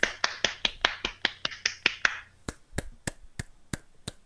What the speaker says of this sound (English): that was like the most fairy clap ever